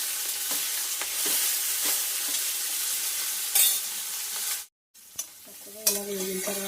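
Onions fry with turmeric in a pan, giving a bright, close sizzle while a spoon stirs and scrapes through them. The sound cuts out briefly near the end before the frying and stirring resume, with no talking.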